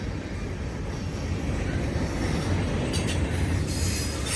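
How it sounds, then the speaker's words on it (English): A Norfolk Southern mixed manifest freight train rolls past close by, a loud continuous rumble of wagons with wheel noise and rattling, no voices. "It's a cool train"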